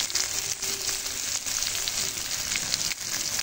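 Eggplant frying in hot oil gives a steady, bright sizzle that crackles continuously and stays close and fairly loud throughout, with no voices.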